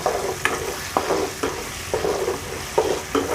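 Ginger frying in oil in a pan for chicken pickle, stirred with a spatula in regular scraping strokes about every half second over a continuous sizzle, close and fairly loud; no speech.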